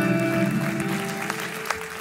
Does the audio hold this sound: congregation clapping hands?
yes